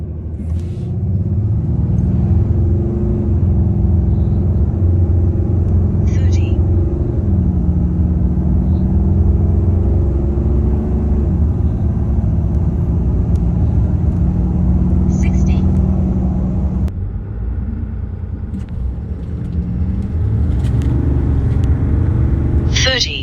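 A 2021 RAM 2500 with the Cummins diesel pulls hard from 0 to 60 while unloaded, giving a loud, steady engine rumble and drone that shifts in pitch through gear changes for the whole stretch.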